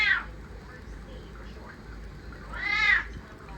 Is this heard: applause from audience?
no